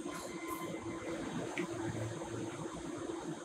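Metro train rumbling in a station, a steady mechanical drone with a brief high squeal partway through, continuous and fairly close with no talk.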